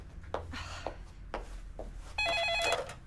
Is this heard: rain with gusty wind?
no